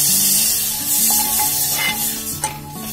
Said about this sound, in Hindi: इसमें दो कप पानी डालना है